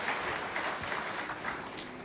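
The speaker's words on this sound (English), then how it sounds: "round of applause" Audience at a PAX convention panel for the game Ratchet & Clank: All 4 One giving a round of applause, a faint, diffuse wash of many hands clapping steadily for a couple of seconds.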